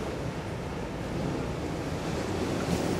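Waves break and wash onto the beach at Pattaya, Thailand, a steady, fairly soft surf roar with wind noise and no voices.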